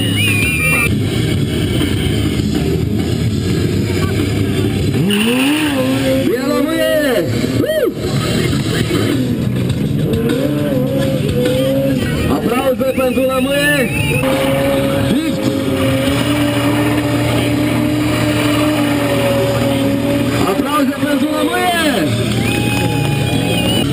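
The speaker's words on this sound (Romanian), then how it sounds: "Rolling burnout cu fundul pe rezervor și picioarele peste ghidon." Along with a crowd, a stunt motorcycle performs a rolling burnout at a biker rally stunt show, its engine revving and wailing in repeated rising and falling bursts over a steady roar.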